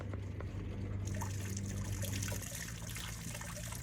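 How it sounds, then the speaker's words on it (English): Water running onto a houseboat slide, a steady broadband trickle and splash holding at even strength throughout, with a low mechanical hum underneath. "Turn that on and you get water on the slide."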